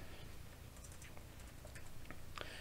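Soft, quiet computer keyboard typing, with scattered light key clicks in an irregular rhythm over a steady background hiss.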